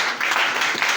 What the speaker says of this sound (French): Acclamez pour eux.